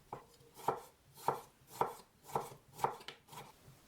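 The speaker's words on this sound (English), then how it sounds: "Cut the vegetables, a few salad leaves, 1/3 of cucumber, 1 tomato" Salad leaves, cucumber and tomato chopped on a board for falafel salad, six to seven evenly spaced knife strokes in a steady rhythm, close and fairly quiet with no talking.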